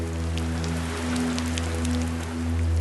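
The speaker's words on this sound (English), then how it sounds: "listening to the rain against her window is no longer a calming sound" Steady rain patters against a window, a dense continuous hiss of drops with a low steady hum underneath, no voices.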